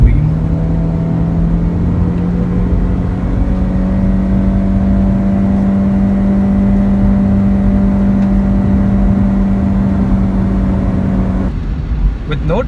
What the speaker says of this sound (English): The engine is responsive, it revs keenly, gear change is very slick.